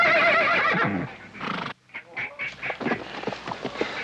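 A spooked horse in an American Western lets out a loud, close neigh and whinny, followed by a brief silence and then snorting, shuffling movement.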